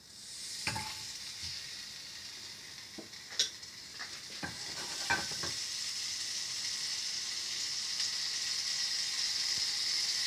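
Tablespoon of butter melting in a pan over a slow flame, giving a steady soft sizzle with a few brief stirring clinks and scrapes. The sizzle grows slightly fuller toward the end.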